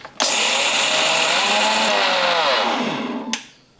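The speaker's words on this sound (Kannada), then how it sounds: "ಈಗ ಮಿಕ್ಸಿಗೆ ಹಾಕಿ ಪೌಡ್ರ್ ಮಾಡ್ಕೊಂಬರ್ತೀನಿ ರೀ" A mixer grinder grinding chickpeas into fine powder whirs loudly and continuously for about three seconds, its pitch sliding down as the blades slow, then cuts off with a click.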